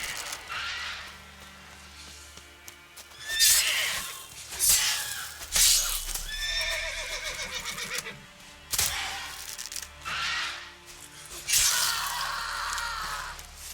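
A horse in the video game The Witcher 3: Wild Hunt gives several loud, shrill neighs and whinnies in irregular bursts, close and clear with short pauses between them.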